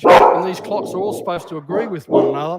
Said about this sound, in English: that's my dog Shep barking.